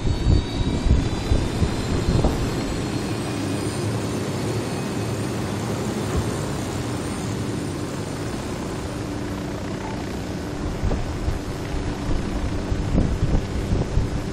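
An airplane's engine drones in a video game, a steady loud roar with wind-like rushing throughout, no speech over it.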